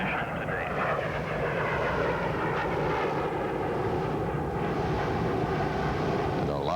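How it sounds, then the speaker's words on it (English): A chase plane roars low overhead after the Space Shuttle STS-9 landing, a loud, sustained jet engine drone with a passing sweep and speech faintly underneath. "And a loud salute from one of those chase planes"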